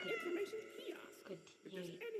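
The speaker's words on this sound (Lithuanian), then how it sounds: "Aš einu dar vieną kartą paglausti tą mažą katinėlį." A small kitten in the video game Indigo Park meows as it is petted, giving several short, soft, high mews in quick succession.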